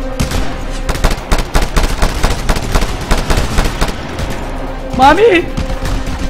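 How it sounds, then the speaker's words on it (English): Rapid bursts of mounted machine-gun fire in a Just Cause 2 firefight, sharp repeated cracks in quick rhythm throughout, loud and close, with a voice shouting near the end. "That mounted gun is tearing us to shreds."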